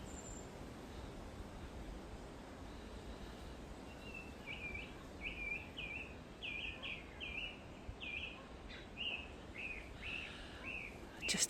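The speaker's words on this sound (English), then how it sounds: "I just had to stop to listen to the sounds of the birds." A bird sings beside a river in a country park, repeating a series of short bright chirped phrases at moderate distance over a faint steady outdoor background, with no talking.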